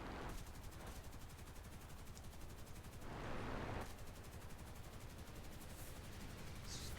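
Rapid aircraft machine-gun fire from a plane in War Thunder, a Russian-tree fighter in a dogfight, rattles in long dense continuous bursts, loud and close, with a brief heavier surge midway and no talking.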